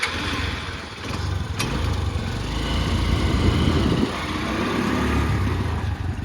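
A small farm vehicle's engine runs at a steady, fairly loud drone as it drives forward, with a constant mechanical rumble and no voices.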